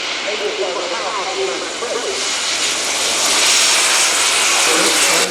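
A German Air Force Airbus A400M Atlas military transport comes in for a full stop landing at an air show. Its engines give a loud, broad roar that grows stronger toward the end, and people talk under it.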